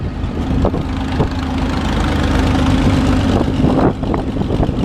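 A 77 tractor engine idles through a straight pipe exhaust, a loud, close, steady low rumble with a rhythmic chugging pulse and a few sharper pops, no one speaking.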